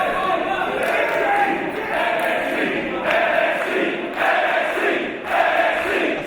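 A wrestling crowd roars and shouts in a steady, swelling wash of noise with rhythmic surges, filling the arena at a loud, continuous level.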